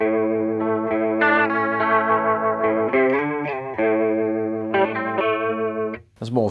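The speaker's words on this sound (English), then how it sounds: "There's more of a traditional vibrato" Guitar chords ring through a Fender Super Champ XD amp on a traditional vibrato setting, the pitch wavering steadily across sustained strums, loud and unbroken until a brief dip and a sharp transient near the end.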